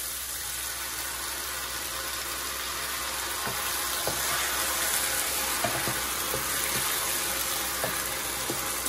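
A steady, loud sizzle rises from a Cajun shrimp and okra gumbo pot as cut whole tomatoes go in, with a few soft thuds and stirring knocks landing over the hiss in the second half.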